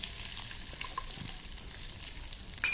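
Curry leaves and dried chillies fry in oil for a homemade pirandai thuvaiyal, a steady close crackling sizzle with light stirring and a clink near the end.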